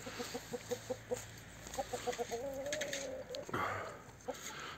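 Hens cluck in rhythmic bursts of short repeated notes beside a chicken coop in the evening, close and clear, with a longer drawn-out cackle midway and faint rustling behind.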